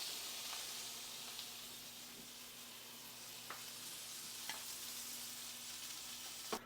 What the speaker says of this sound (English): Now we're ready for the cast iron pan to get a nice hard sear on there.